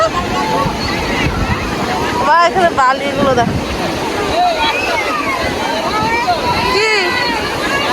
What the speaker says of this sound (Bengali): বাবা কি ঢেউ